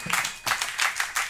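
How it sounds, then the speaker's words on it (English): A comedy club audience applauds after a stand-up contestant's joke, a short burst of close, scattered clapping that swells in a few waves over about a second. "Y'all can clap for that."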